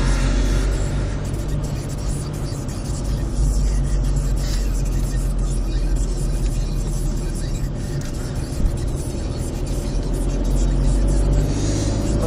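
A car driving slowly through narrow streets gives a steady, loud engine rumble and road noise throughout, close and continuous with no pauses.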